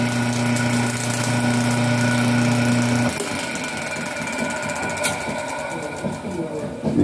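A single-phase line motor with a centrifugal switch and capacitor, being tested before fitting to a tire changer, runs nearby with a steady electric hum that shifts partway through into a rougher broadband whir.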